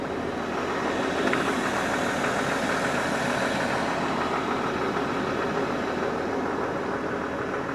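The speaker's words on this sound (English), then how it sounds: "The idea is I back the backhoe down, get my scoop" A backhoe's engine runs steadily while scooping and moving rock at a rocky riverside site, a loud, close, continuous low rumble with no pauses and no talking.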